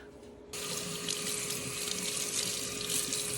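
A tap runs steadily, a continuous hiss of water that switches on abruptly and keeps flowing at close range while hair gets wet, with no talking.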